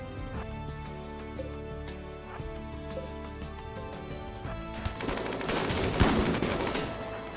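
A minigun in RimWorld fires in rapid bursts, loud and close: a steady rattling string of shots that swells into a dense, roaring barrage near the end, with no voices over it.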